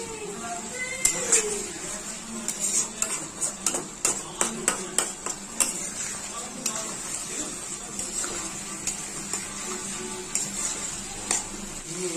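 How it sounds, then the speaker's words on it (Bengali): Ground cumin, turmeric, chili powder and salt being fried and stirred in a pan: a steady sizzle with repeated scraping, tapping strokes of a spoon against the pan, close by. "এর মধ্যে জিরের গুঁড়ো হলুদ গুঁড়ো লঙ্কার গুঁড়ো নুন দিয়ে এবার খুব ভালো করে আমি এই মশলাটাকে কষিয়ে নেব"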